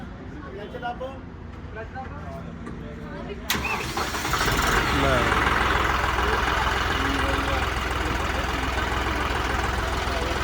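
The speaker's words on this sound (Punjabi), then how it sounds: "ਆਵਾਜ਼ ਕਰਿਓ ਚੈੱਕ ਟਰੈਕਟਰ ਦੀ" A voice speaks briefly, then a John Deere 5210 tractor engine cranks and catches, settling into a steady, loud, rumbling idle close by.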